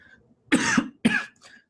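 Two harsh, close coughs in quick succession from a person in a podcast studio, followed by a faint trailing breath.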